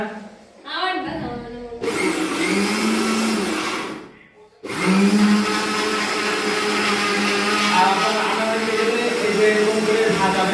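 A kitchen blender grinding rice into flour, running in a loud, steady whir that briefly stops and then restarts to drone on continuously, close up.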